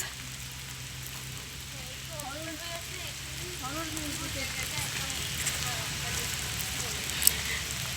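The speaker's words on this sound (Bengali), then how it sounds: "প্রচুর বৃষ্টি বের হতেই পারতেছি না" Steady heavy rain hisses constantly across the whole clip in a rubber plantation at Ramu, with faint voices murmuring underneath.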